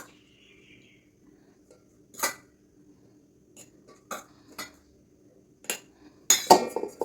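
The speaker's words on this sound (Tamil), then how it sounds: "இப்போ நம்ம மூடி போட்டு மூடிடலாம்." Kitchen clinks of a metal lid being set onto a ragi puttu steamer, a few separate knocks and taps with a louder cluster of clatter near the end, close and otherwise quiet.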